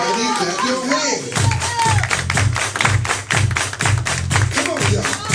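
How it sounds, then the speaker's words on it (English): A group claps along in a steady rhythm at a lively indoor event, with regular sharp claps and low thumps repeating under loud music and voices. "Everybody clap your hands."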